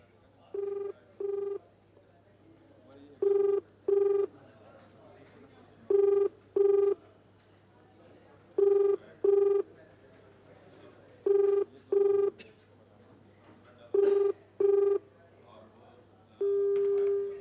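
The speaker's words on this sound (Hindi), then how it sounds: "अब देखिए घंटी ज़रूर जा रही है सीयूजी नंबर पर" Outgoing ringback tone on a mobile call placed from India, repeating as paired bursts roughly every two and a half seconds, clear and steady over a faint hum.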